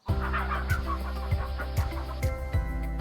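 Chickens on a poultry farm cluck repeatedly in short, uneven bursts, fairly close and steady throughout, with no voices.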